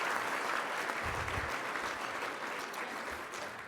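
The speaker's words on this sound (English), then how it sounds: "Let's give our great public servants a round of applause." Audience at a Denver public safety luncheon applauding public servants: dense, steady clapping from a sizeable crowd that fills the whole stretch at moderate distance, easing slightly toward the end.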